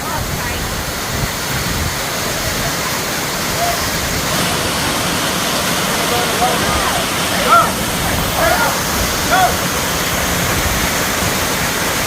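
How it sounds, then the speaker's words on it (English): Waterfall at Dinkey Creek roaring in a steady, loud broadband wash for the whole stretch, with faint voices and brief splashy accents mixed into the constant rushing water. "He's gonna take the waterfall, man."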